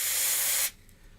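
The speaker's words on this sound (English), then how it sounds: "We've got some freezer spray," Freezer spray blasts in one steady, loud hiss onto an air quality board for Pico, lasting about two-thirds of a second before cutting off sharply into quiet room tone.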